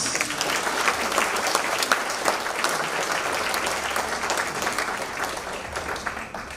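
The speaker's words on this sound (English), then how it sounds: "One more applause." An audience at a charity event breaks into sustained applause, a thick, loud crowd of clapping hands that holds steady and eases off slightly toward the end, with no voices rising above it.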